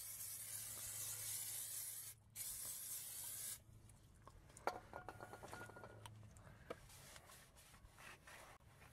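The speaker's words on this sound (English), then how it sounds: "the discs must always be cleaned first with brake cleaner" Brake cleaner sprays onto the brake discs of a Renault Megane Scenic RX4 in two short hissing bursts, followed by quiet rubbing and light clinks close by.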